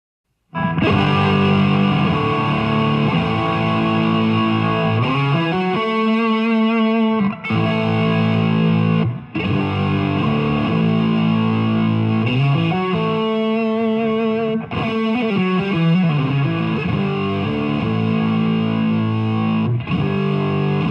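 A Squier Classic Vibe 50s Stratocaster electric guitar plays through distortion and effects, delivering loud, sustained chords and melodic riffs continuously for about twenty seconds, alone without talk.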